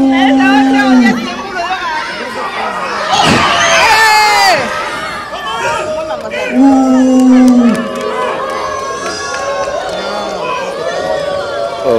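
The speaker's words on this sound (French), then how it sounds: "Allez, on applaudit." Crowd at a Congolese kabubu wrestling match, with loud shouting, cheering and chatter surging in bursts, and voices calling out close by.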